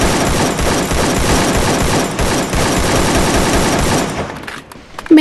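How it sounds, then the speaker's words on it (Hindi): Dense, loud automatic gunfire from the shooting video game Free Fire, continuous bursts of rapid shots with no pauses that drop off abruptly near the end, with no one talking. "जैसे इसको ढूंढने जाती हूँ तो पीछे से गन साउंड आने लगते हैं"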